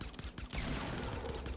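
Pistol gunfire in the video game Fortnite, a dense, continuous burst of shots and game action at steady loudness for under two seconds, with no voices.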